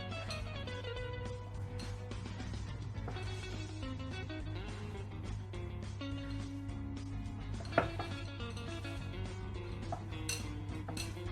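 Sourdough naan dough mixed in a bowl by hand with a utensil, quiet irregular scraping and soft clinking of the bowl at close range over a steady low hum, with one sharper knock partway through.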